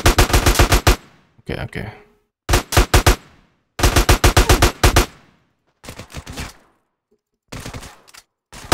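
Automatic gunfire in GTA San Andreas Definitive Edition comes in loud, rapid bursts separated by short pauses, with a few brief lighter volleys near the end and a single spoken word between shots.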